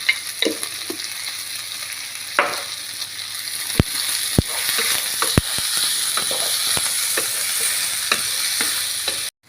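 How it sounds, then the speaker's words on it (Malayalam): Onions sautéing in a pan for a Kerala-style chicken curry, a continuous close sizzle with sharp spatula clicks and scrapes against the pan, no talking. "അപ്പോൾ സവോളയൊക്കെ നല്ലോണം വഴുന്നിട്ടുണ്ട്"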